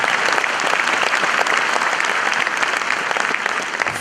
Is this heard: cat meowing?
no